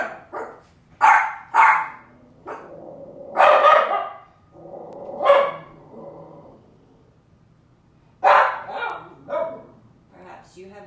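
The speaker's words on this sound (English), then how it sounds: "You have dogs barking at home as well." Dogs bark in scattered loud bursts at moderate distance, some single and some doubled, with quieter stretches between them in an indoor home setting.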